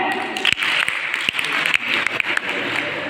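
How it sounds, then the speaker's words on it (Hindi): Sustained applause from an audience at a college short play, many hands clapping together in a continuous, fairly loud patter. "नेताजी के लिए जोरदार तालियां।"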